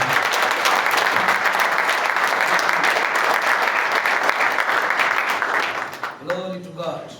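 A church congregation applauds loudly and continuously for several seconds, then the clapping fades and a voice begins speaking.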